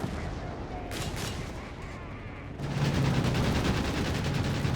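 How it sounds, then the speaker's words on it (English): A bombing run in Company of Heroes 3 during a 4v4 match: dense rolling explosions and gunfire that swell louder in the second half, forming a continuous battlefield roar. "Big bombing run"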